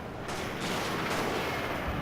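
Cannon fire in the Total War: Fall of the Samurai strategy game, a few muffled booms with distant gunfire crackle over a steady battlefield din, no voices.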